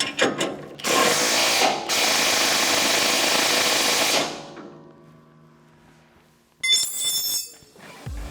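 A 1.5-inch socket and wrench tighten a fastener while a fan is replaced on a MUSKOX snowblower, giving loud, rapid ratcheting bursts in two long runs, then quieter metallic clicks and a final short clatter.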